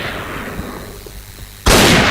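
A loud, sudden explosion bursts in the Point Blank video game after a quieter stretch, a broad crashing blast that holds strong to the end.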